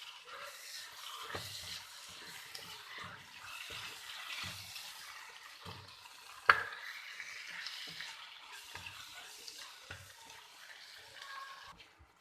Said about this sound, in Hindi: इनको आपने जहाँ तक भूनना है कि आलू हमारे सॉफ्ट हो जाए।